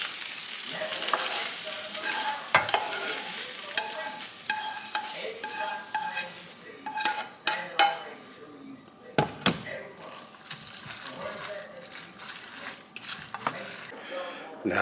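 Fresh spinach stirred into spaghetti frying in a pan for a vegetarian pasta, steady close sizzle with repeated spoon scrapes and stirring clatter, a voice talking now and then.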